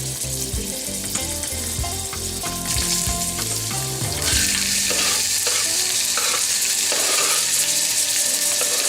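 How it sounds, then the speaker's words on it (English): Ginger sizzling in a hot pan, loud and steady frying crackle up close, with stirring scrapes in the first few seconds, no talk. "Put the ginger in first. Yeah, there we go. It's sizzling."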